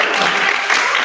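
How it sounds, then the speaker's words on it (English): Steady applause from an event audience, a dense, continuous wash of many hands clapping throughout the short stretch with no pauses. "let's give it a round of applause for Leanne"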